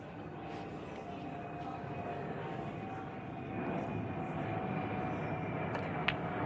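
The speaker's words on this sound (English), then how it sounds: "Here goes the FedEx plane." A FedEx cargo plane flying overhead, a steady broad engine roar that swells slightly as it passes, with a faint voice under it.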